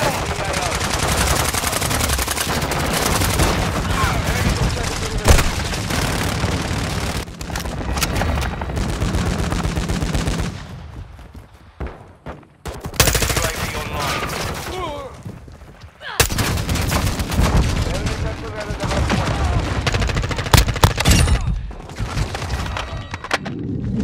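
Call of Duty Modern Warfare 2 gameplay erupts in loud bursts of rapid automatic gunfire and chopper cannon fire, with heavy booms and short lulls between the volleys.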